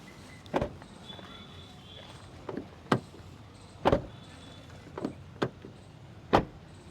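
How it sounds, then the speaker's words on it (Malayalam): Several sharp, solid thuds from the doors of a used automatic Mitsubishi Pajero with about 33,000 km being shut one after another, spaced irregularly over a quiet background with faint mechanical whirring between them. "ഡോറൊക്കെ അടയ്ക്കുന്ന ആ ഒരു സൗണ്ട് കേട്ടാൽ അറിയാം"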